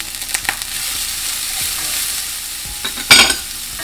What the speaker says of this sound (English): I am going to then saute up some onions and garlic and green onions.